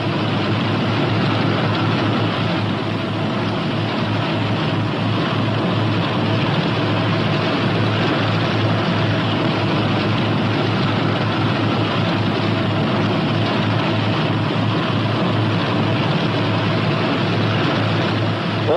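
The twin engines of a P-61 Black Widow aircraft idle while it taxis, making a steady, continuous low rumble and drone that holds at an even level throughout with no voices.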